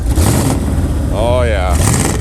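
The engine of an abandoned 1979 Chevrolet idles with a rough, loud rumble, then gets one brief rev that rises and falls in pitch. It is close and runs under voices.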